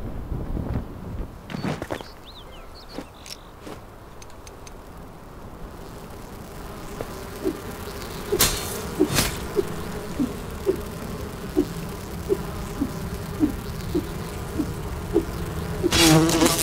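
A bee buzzing in the video game Enshrouded: a steady, droning insect hum runs throughout with rhythmic pulsing, under scattered clicks and sharp thuds, and no talking.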